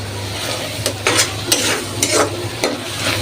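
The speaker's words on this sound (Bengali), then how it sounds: "আমি একটা টমেটো দিয়ে দিচ্ছি, ভালোভাবে কষাই নিয়ে একটু" Tomato fries in a pan with a loud, continuous sizzle while a spoon stirs it in a few repeated scraping strokes close by.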